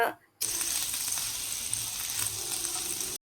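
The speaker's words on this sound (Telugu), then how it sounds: "బటర్‌ని ప్యాన్ మొత్తం ఈవెన్‌గా స్ప్రెడ్ చేసుకొని మొత్తం మెల్ట్ అయ్యాక" Home-made butter spread evenly across a pan, melting and sizzling: a steady close frying hiss begins abruptly after a brief quiet moment and continues without a break.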